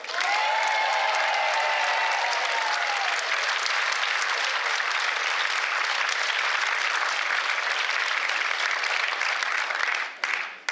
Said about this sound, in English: I want the whole audience to give Bob a huge round of applause.